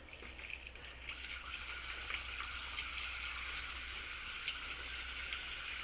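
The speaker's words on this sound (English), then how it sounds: "Set the green beans under the running water." Tap water runs into a kitchen sink over green beans being rinsed, a steady hissing gush that grows a little stronger after the first second and then holds, soft and close, with no talking.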